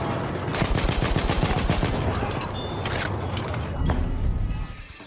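Dense gunfire from the World War I shooter Battlefield 1, a loud continuous volley of rifle and machine-gun shots with sharp cracks over a rumbling battlefield bed, steady throughout before tapering off at the end.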